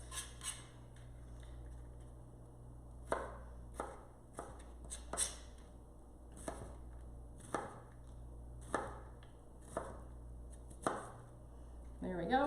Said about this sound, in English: I'll take my Santuco knife, and I'm just going to sort of cut these into shorter pieces